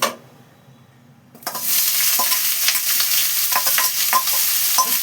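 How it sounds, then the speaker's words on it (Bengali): Young jackfruit pieces drop into hot oil in a wok, setting off a loud, steady sizzle and frying hiss that runs from about halfway through to the end, with some stirring clatter, after a quieter start. "দেখো তেল গরম হয়ে গেছে, এবার আমি এতে এই যে এঁচোড়টা দিয়ে দিচ্ছি।"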